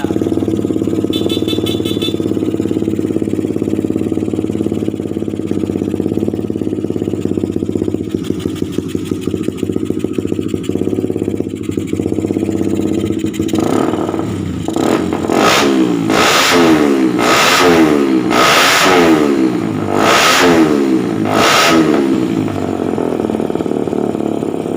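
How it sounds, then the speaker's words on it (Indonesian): Honda CB150R motorcycle converted to a carburetor with a loud exhaust, idling roughly, then revving hard in repeated sharp bursts that rise and drop, close and loud. "Ini sangat pengang sekali suara knalpotnya."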